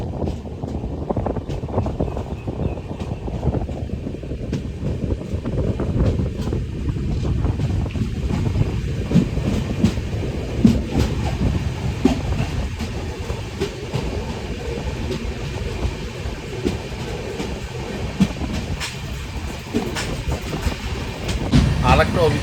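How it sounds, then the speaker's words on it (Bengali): The Padatik Express runs through Harishchandrapur station without stopping, heard from inside a sleeper coach as a loud, continuous rumble and rattle of wheels on the track, with a steady rush of wind that holds throughout. "এই মুহূর্তে আমরা অতিক্রম করছি হরিশ্চন্দ্রপুর, যদিও এখানে ট্রেন দাঁড়াবে না।"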